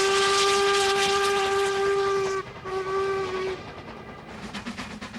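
A Stanier Black Five steam locomotive sounds a loud, steady steam whistle for about two and a half seconds, then a shorter second blast, with rumbling train noise continuing beneath and after.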